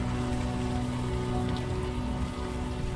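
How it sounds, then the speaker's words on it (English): Steady rain pours down in the video game Unavowed, a dense, even hiss of drops on hard surfaces with no break or other sound. "At least the rain is washing away most of the smell."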